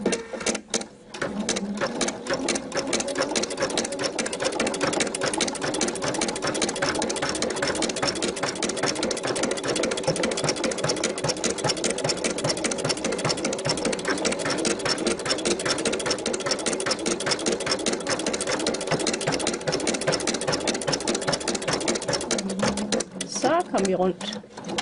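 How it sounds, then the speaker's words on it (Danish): An embroidery sewing machine stitches on a hat at low speed, a steady rapid mechanical chatter running loud and close for nearly the whole stretch, stopping briefly near the end. "Så er vi klar til at sy, og jeg har sat maskinen ned på lav hastighed."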